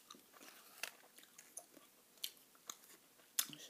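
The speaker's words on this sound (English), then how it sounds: "This is the gum I'm chewing today" Gum chewed close up with no talking, giving soft wet smacks and sharp clicky snaps at an irregular pace over a quiet background.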